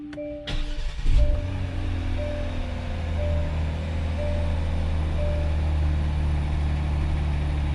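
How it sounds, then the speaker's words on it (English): A Hyundai Genesis G70 being diagnosed for a no-start fault cranks briefly and fires up, then settles into a steady idle with a low engine hum and faint intermittent chimes. "Okay, so far vehicle starts."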